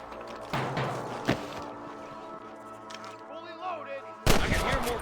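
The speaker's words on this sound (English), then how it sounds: "more gunshots" A couple of sharp gunshots ring out, one sudden and loud near the end, over music and a low rumbling backdrop, in the video game Red Dead Redemption.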